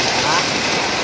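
Heavy rain pours down steadily, a loud, dense hiss of water drumming on surfaces close around, unbroken for its whole length.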